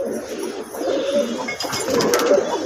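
Wild pigeon cooing in low, rolling phrases, steady and fairly close over a faint background hiss, with no voices.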